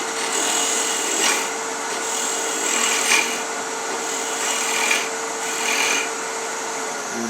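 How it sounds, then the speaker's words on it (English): Spindle roughing gouge taking a parting cut on spinning wood on a lathe, a steady close scraping rasp with a constant hum beneath and a few louder swells as the tool bites, no voices. "take parting cut"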